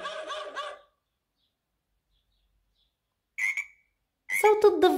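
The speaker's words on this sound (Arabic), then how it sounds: "صوت الضفدع رفيع، شايفين كيف صوته؟" A frog croaks in three separate bursts: a short croak, a long silence, then a brief call and a louder, rasping croak at the end, with no other sound around them.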